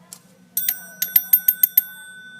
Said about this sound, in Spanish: Este es el principio del timbre eléctrico.